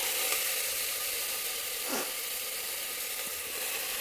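Chopped, washed mustard greens drop into hot oil seasoned with asafoetida, giving a steady, close sizzle and hiss with a brief louder crackle as they hit the pan, no talking.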